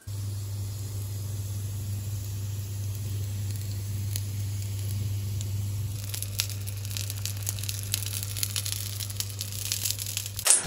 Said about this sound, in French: Dans la poêle chaude, faites dorer 2 minutes de chaque côté avec la matière grasse.